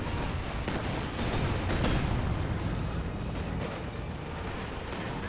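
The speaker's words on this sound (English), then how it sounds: "Katusha barrage onto this blob." A dense Katyusha rocket barrage in a Company of Heroes 2 battle, a continuous roar of overlapping explosions and launches rumbling heavily with no pause throughout.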